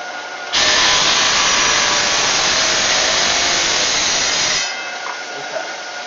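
Power saw cutting bathroom tile, a loud, steady, gritty hiss that starts abruptly and holds for about four seconds before dropping back to a low machine whir, with no talking.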